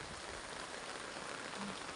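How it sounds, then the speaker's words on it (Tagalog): Steady rain falls on surfaces in a dense, even hiss of drops, unbroken and fairly close, at a coastal market area in Bukana; no voices are heard. "Walang tigil ang ulan."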